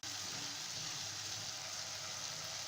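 Cumin seeds frying with onion and ginger-garlic paste for Lahori cholay, a steady, even sizzle that holds without a break from start to finish and carries no talk over it.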